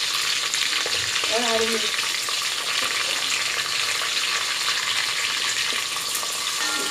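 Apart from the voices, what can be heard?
frying cumin, dried red chilli and green chilli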